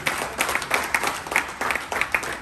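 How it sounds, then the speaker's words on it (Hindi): Enthusiastic applause from an audience at a business award event, a steady wash of many hands clapping that rises and falls over a couple of seconds. "एक बार जोरदार तालियां।"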